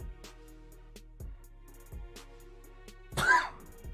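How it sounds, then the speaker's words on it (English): A single short cough or throat-clear from a person painting miniatures comes near the end. It is close to the microphone and follows several seconds of soft, quiet clicks and room noise. "I still have my cough."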